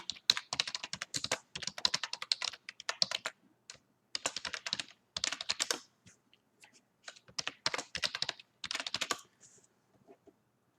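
Login details typed on a computer keyboard: quick bursts of close, crisp key clicks separated by short pauses, ending with a few isolated taps and then quiet.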